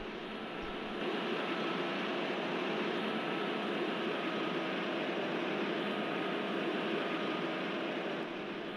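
Kanyakumari Express train rolling over an unnamed level crossing on the Guntakal–Pakala route, a steady loud broadband roar and rumble of wheels and carriages that runs unbroken from the start to the end.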